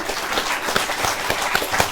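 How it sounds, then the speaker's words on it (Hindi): An audience at a Yoga Day poetry gathering claps in steady, dense applause, many hands at moderate distance with no talk. "तालियां वालियां आप इसलिए बजाते रहो क्योंकि तालियां बजाना भी बहुत बड़ा योग है वैसे"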